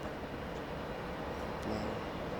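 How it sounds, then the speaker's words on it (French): Steady low rumble of trains rolling past close by, a continuous broadband roar with faint metallic squeals near the end. "Et on entend les trains juste derrière."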